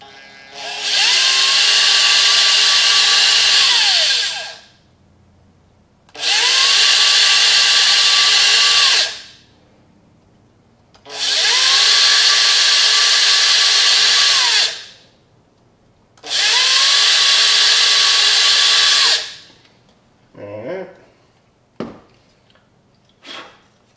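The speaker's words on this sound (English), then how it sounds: "We are going to drill or pre-drill some holes for the screws." A power drill pre-drills screw holes for a servo mount in a yellow F-16 model airplane, whirring in four loud, evenly spaced bursts of about four seconds each, followed by soft handling clicks.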